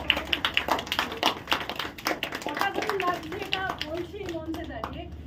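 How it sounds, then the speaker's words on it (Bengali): Applause from an audience at a theatre awards ceremony, a burst of claps that thins out over several seconds while voices, including children's, chatter beneath it. "আমার মায়ের জন্য হাততালি।"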